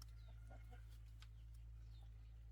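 Chickens at a Vietnamese home give several soft scattered clucks and chirps, faint over a steady low hum.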